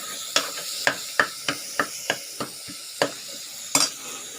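Fresh coriander and mint being stirred into a pot of mushroom biryani: about ten sharp, evenly spaced scrapes of a spoon against the pot over a faint continuous sizzle, near and clear, with no one speaking.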